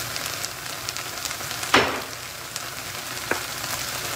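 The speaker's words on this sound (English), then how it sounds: "And now I'm going to add my mushrooms to it. With my mushrooms, I'm going to add my spices." Mushrooms and spices cooking in a dry pan with no oil give a steady close hiss, with one sharp scrape or clatter partway through and a smaller knock near the end.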